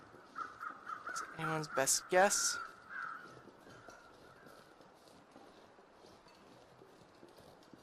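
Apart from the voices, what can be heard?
crows cawing in video game The Long Dark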